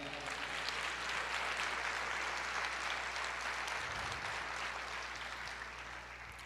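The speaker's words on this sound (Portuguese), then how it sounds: "Você pode aplaudir o Senhor?" A church congregation applauds together in steady, sustained clapping that fills the whole stretch, dense and even with no one speaking, easing off slightly toward the end.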